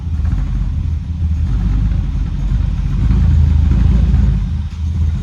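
A 1963 Dodge Dart convertible engine runs with a low, steady rumble as the car moves and then slows under braking, loud and close throughout.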